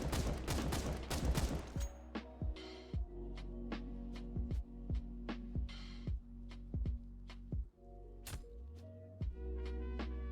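Sharp gunshots ring out in Counter-Strike 2 as rounds are fired through a wall toward the mid area. A rapid burst opens the sequence, followed by separate single shots at an uneven rhythm over a low hum.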